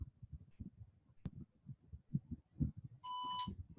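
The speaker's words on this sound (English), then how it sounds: "just hold it down until it beeps" A short, thin electronic beep from a handheld electronic pen device rings out near the end as its button is held down, over soft shuffling and handling noises.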